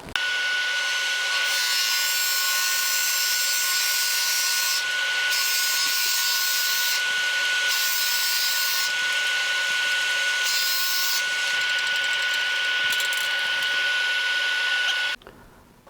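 A drill bores out a wooden lidded box spinning on a lathe, giving a loud, continuous grinding whir with a steady tonal hum that dips briefly several times before cutting off near the end.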